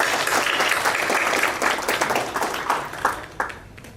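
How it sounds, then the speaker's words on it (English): A round of applause from an audience at a preventive vigilance workshop, dense clapping that stays strong for several seconds and thins into a few scattered claps at the end. "a big round of applause for N.K."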